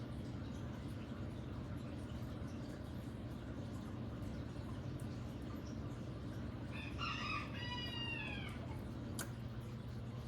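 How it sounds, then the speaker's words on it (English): A rooster crows once at a distance over a steady low hum of background noise, followed by a single sharp click. "Them little roosters get out there and holler at me"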